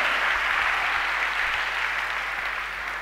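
A church congregation applauds in praise during a solemn worship convocation, a dense, steady wash of clapping from many hands that holds loud and even for about three seconds before easing slightly at the end.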